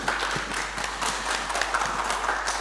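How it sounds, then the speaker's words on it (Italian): A crowd applauds with dense, steady clapping that holds at an even level throughout, with no voices rising above it. "un applauso a Giacomo."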